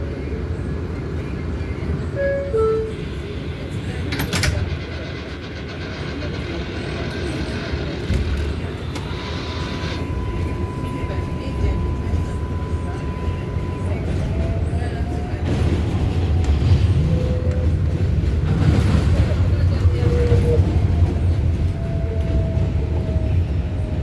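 An R188 7 train on the New York City subway pulls away and rides toward Flushing–Main Street with a steady rumble and rising motor whine, faint announcement tones and brief squeals carrying over the continuous noise.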